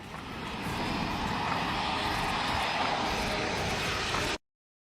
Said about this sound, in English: You like how it sounds like a jet engine in the background?